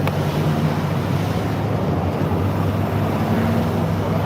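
Heavy wind roars and buffets inside a moving Jeep with its windows removed, a loud continuous low rumble with no letup, no voices heard.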